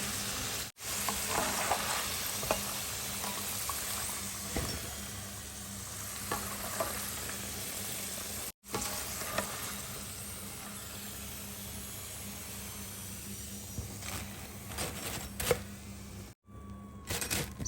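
French fries sizzle in hot oil with a steady crackling hiss, broken by occasional scrapes and clinks as a utensil scoops them out, close and without talk.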